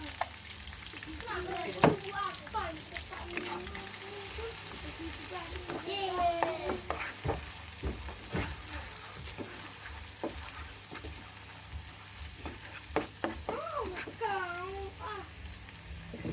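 Noodles cooking gently over low heat in a pan for mie gomak, with soft frying sizzle and occasional stirring scrapes, fairly quiet and steady throughout.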